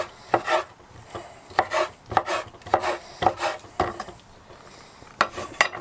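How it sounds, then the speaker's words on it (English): Knife chopping through raw chicken breast on a board, slicing it into strips: a run of crisp, close cuts in uneven rhythm, some single and some in quick pairs, with no talking. "So I cut that breast in half and then I do it in strips."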